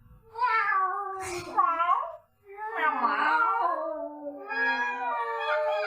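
Several people mimic cat meows with drawn-out, wavering vocal yowls, close and loud, in three long overlapping bursts.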